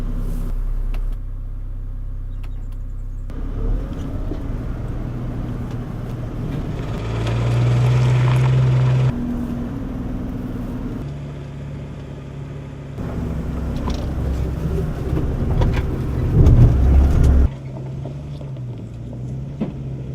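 An IVECO Eurocargo 4x4 truck crawls over an off-road obstacle in low range first gear with center and rear diff locks engaged, heard as a loud, steady low engine drone that swells and eases with throttle, plus occasional mechanical knocks.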